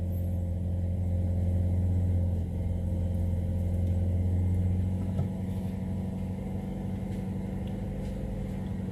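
A car engine idles steadily at about 1500 RPM just after a cold start, a close, continuous low hum and rumble that dips slightly in pitch partway through, with no talking.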